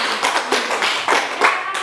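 A class of schoolchildren claps together in a rhythmic burst during a math lesson, sharp, loud, closely spaced claps that repeat in quick patterned beats.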